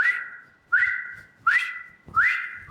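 Four loud, rising whistles repeat at a steady pace, each a sharp swoop upward then a held tone, blown as a cheer for Chennai Super Kings cricket.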